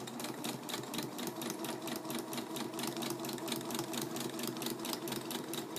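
A sewing machine stitches fabric in a fast, even, rapid-fire mechanical rhythm that runs without a break, close by and fairly quiet, with no talking.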